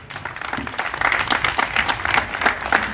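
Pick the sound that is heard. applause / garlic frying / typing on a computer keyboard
applause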